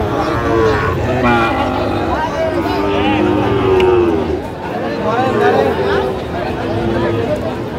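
Cattle, including Sahiwal bulls, low repeatedly amid a busy livestock market crowd, the moos rising over steady chatter and people talking nearby.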